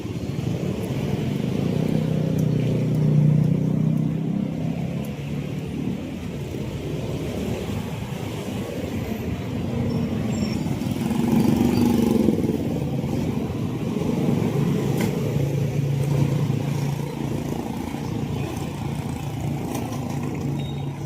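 Night street traffic in Marikina, with a steady wash of car and motorcycle engines passing close by, swelling and fading over a continuous low rumble.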